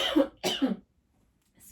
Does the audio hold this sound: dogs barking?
no